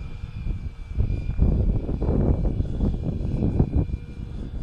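A Hobby King Cherokee radio-controlled airplane's engine drones steadily as the model climbs, a continuous moderately loud buzz with a high whine, heard alone without talk.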